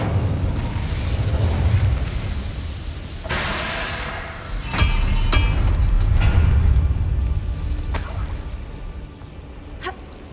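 Incendio fire spell cast in Hogwarts Legacy, with whooshing bursts of flame and several sharp cracks over a steady rumbling game backdrop.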